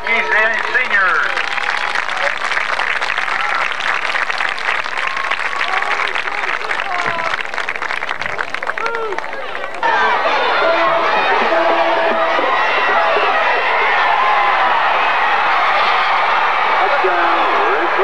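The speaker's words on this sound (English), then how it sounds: "A round of applause for our McCaskey seniors." Sustained audience applause from a crowd at a high school band event honoring McCaskey seniors, steady clapping filling the hall for the whole stretch with a brief dip midway, then swelling again with some cheering.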